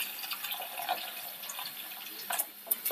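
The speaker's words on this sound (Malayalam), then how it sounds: "ഇനി നമുക്കിതിന് ആവശ്യമുള്ള വെള്ളം ഒഴിച്ചു കൊടുക്കണം." Water is poured into a pan of fried fish curry, giving a soft, steady splashing and trickling sound with a few brief drips near the end, fairly quiet.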